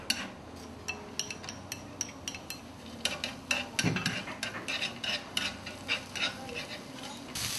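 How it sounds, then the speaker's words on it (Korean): Meat and vegetables being stir-fried in a pan: a soft sizzle underlies repeated clinks and scrapes of a utensil against the pan, irregular and fairly close, with no talk. "고기를 먼저 넣어서 볶다가요 야채도 넣어주시고요"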